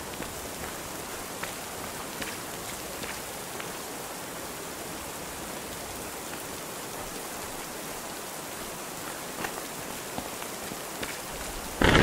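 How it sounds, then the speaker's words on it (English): Steady rainfall in the video game Lunacy: St. Rhoades, a constant hissing patter on surfaces with occasional louder drops, no speech. "Of course, it's starting to rain"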